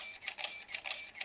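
Nikon 301 film camera's built-in motor drive firing in continuous mode, a rapid series of crisp shutter-and-advance clicks at an even rhythm, close and clear with no talk.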